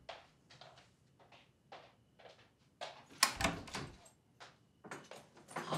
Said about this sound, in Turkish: Neden kilitleniyor bu kapı anlamıyorum ki.